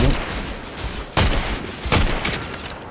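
Gunfire in a Fortnite match: sharp shots crack through a dense, noisy game soundscape, two distinct reports standing out about a second apart.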